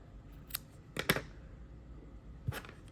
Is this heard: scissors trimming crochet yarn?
yes